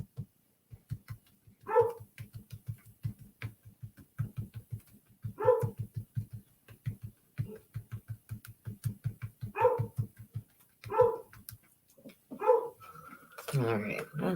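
A dog barks repeatedly in short bursts at a moderate distance, with a few whimpery yips between, during a crafting session at home; a brief clatter near the end.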